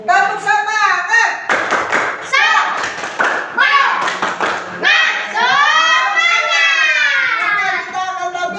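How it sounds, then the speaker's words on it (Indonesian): A group claps a rhythmic spirit clap in a classroom teacher-training session, bursts of sharp hand claps in patterned beats mixed with loud chanting voices and children's speech throughout. "Sebelum itu, kita tepuk semangat dulu ya."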